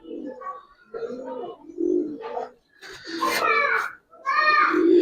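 A Pakistani Giribaz high flyer pigeon coos in low, throaty bursts close by, mixed with people talking nearby.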